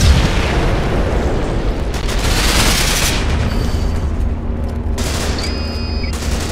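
Grenade blast in the online shooter Ghost Recon Online: a loud, sustained roar of explosion and gunfire fills the scene up close, with a further burst and a high electronic tone near the end.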